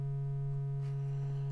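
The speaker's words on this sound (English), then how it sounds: "you have the triangle waveform" A steady, pure-sounding triangle waveform oscillator tone from a HALion Sonic synthesizer, holding one low pitch with faint upper harmonics, constant and alone.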